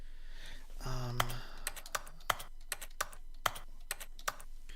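Keyboard keys clatter in an irregular run of sharp clicks with small pauses between them, close and moderately loud; a brief tonal chime sounds near the start.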